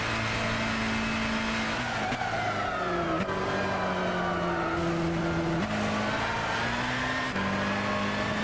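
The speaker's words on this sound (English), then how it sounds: "We're going to overtake this V8 supercar here." Race car engines scream in Gran Turismo 6 as a Zytek Z11SN overtakes a V8 supercar, with high, continuous revving that rises and drops sharply through several gear shifts, accompanied by tire squeal.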